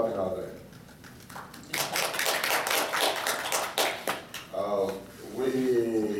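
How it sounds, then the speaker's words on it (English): Audience applause at a commemoration of the tenth anniversary of the African Journal of Rhetoric, a steady wash of clapping that swells and holds for several seconds, with a speaking voice before and after it. "Please clap it out there."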